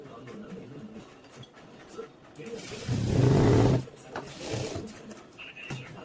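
A sewing machine stitching fabric pleats, one steady whirring run of roughly a second amid quieter handling and mechanical sounds.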